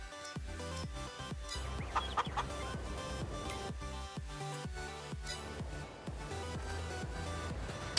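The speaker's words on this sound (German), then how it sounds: "Gehen wir kurz hier bei den Hühnern." Chickens in a hen house in the farming game Farming Simulator 22 cluck steadily, a dense flock of overlapping clucks with an occasional crow over a constant barn ambience.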